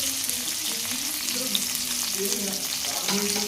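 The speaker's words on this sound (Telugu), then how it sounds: "ఇదైతే గోల్డెన్ బ్రౌన్ వచ్చే వరకు వేయించుకుందాం" Garlic and curry leaves fry in hot oil with a loud, steady, close sizzle and faint stirring, heard alone without voices.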